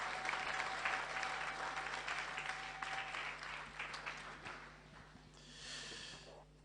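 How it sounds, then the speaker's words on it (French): A church congregation applauds to welcome a speaker, a dense, distant-sounding wash of clapping that holds steady and then tapers off, with a steady hum underneath. "On peut l'accueillir, on peut l'applaudir."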